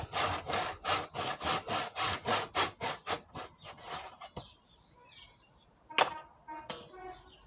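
A hand saw rasps through wood in quick, regular back-and-forth strokes, then slows and stops; a few scattered knocks and scrapes follow, close by.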